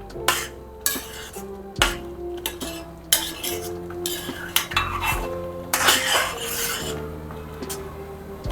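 A spoon scrapes the milk skin off the sides of a pot of carrot halwa reducing in milk, giving repeated close metallic rasps and clinks in an irregular rhythm, with no talking.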